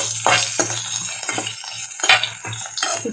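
Onions and cumin seeds sautéing in a pan for mint chutney, with a spoon scraping and clinking against the pan in quick rhythmic strokes over a light sizzle.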